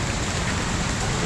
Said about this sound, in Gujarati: વરસાદ હતો વધારે।